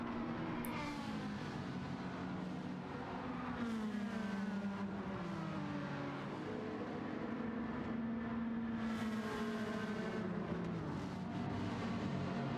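A train of racing cars in Gran Turismo 7 on Trial Mountain, with engines droning and rising and falling in pitch as they rev and shift, overlapping in a continuous, fairly loud roar.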